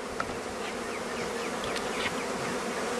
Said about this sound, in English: the bees are already coming up and they're coming around that cage